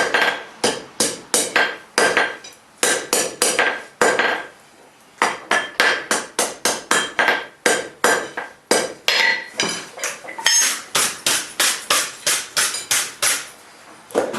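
Hammer forging a steel bar on an anvil, upsetting the bar while drawing out the toe of a basket twist poker; loud, close, ringing metallic blows struck in quick regular runs, with short pauses between sets.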